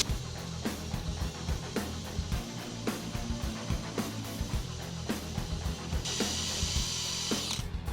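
A power buffer or polisher works car clear coat at low speed, a steady close motor whine with rhythmic pulses about every second as the pad is pressed and moved, running continuously with no talking.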